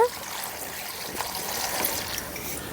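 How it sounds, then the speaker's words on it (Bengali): Cold water trickling and splashing as it is poured over raw chicken feet in a kitchen, a soft steady close pour with faint voice underneath. "এখন ঠান্ডা জল দিয়ে দিচ্ছে এর মধ্যে"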